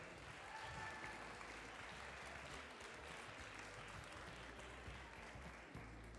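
An audience applauds high school students from Lycée Jacques Prévert at a cooking event: steady, dense clapping from a crowd that holds at an even level throughout, with a low hum underneath.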